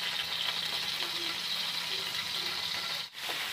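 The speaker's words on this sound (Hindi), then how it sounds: "पैन गरम हो चुका है, हम ऑयल डालेंगे। पनीर को हम फ्राई कर लेंगे, हल्का ही ब्राउन करेंगे" Paneer frying in hot oil in a pan: a steady, even sizzle runs throughout with a faint low hum beneath, briefly dipping near the end.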